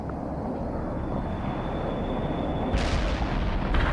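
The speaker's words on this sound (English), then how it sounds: "Cluster bomb hit nothing but dirt." Cluster bombs explode in World in Conflict, a low rumbling roar under a whining tone, then a sharp louder crackling blast near the end, with aircraft noise mixed in.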